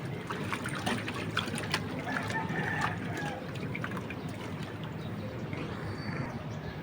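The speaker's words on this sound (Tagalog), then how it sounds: "nalagyan na po natin ng tubig" Water trickles and splashes steadily as it is poured into a container, a continuous close pouring sound.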